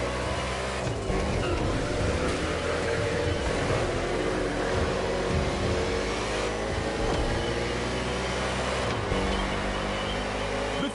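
NASCAR stock cars racing on an eight-corner urban street circuit in Honolulu, Hawaii, just after the green flag, with a dense, continuous engine roar from several cars and shifting revs throughout.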